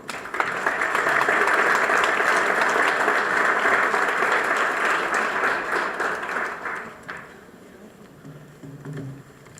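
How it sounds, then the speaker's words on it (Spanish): Loud, sustained applause from a crowd at a book presentation fills most of the stretch, then tapers off into scattered claps and quiet room noise. "Recibámoslo con un fuerte aplauso."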